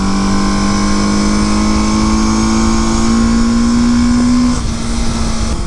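A 1973 Honda CB500 motorcycle engine runs smoothly after its carburetors are synchronized, a loud, close, steady hum whose pitch climbs slowly before easing off near the end.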